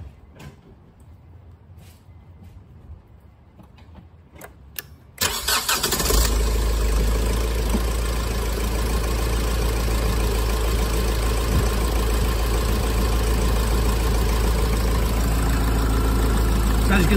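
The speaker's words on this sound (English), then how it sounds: "so we're going to start the battery, start the car" A car engine cranks and catches after a few seconds of quiet shuffling and clicks, then settles into a steady, loud idle with a constant low rumble and hum that continues to the end during an alternator check.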